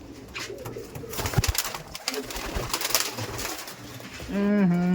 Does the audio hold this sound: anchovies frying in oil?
no